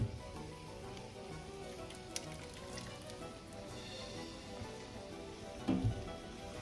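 Cooked spaghetti for cacio e pepe sizzles steadily in a pan with black pepper, a continuous close crackle and hiss with a brief louder burst near the end.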